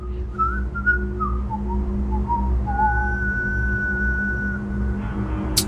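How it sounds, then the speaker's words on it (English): Someone whistles the Mickey Mouse challenge tune, a few short wavering notes followed by one long held tone, over a steady low hum in a quiet room. "She whistles the actual thing."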